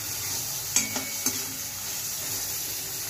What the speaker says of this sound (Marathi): तर त्याच्यामध्ये आपण अद्रक लसणाची पेस्ट टाकून घ्यायची अर्धा चमचा।